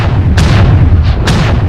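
A heavy mech fires its guns in a video game, loud booming shots thumping over a dense roaring low rumble, two or three distinct blasts in quick succession.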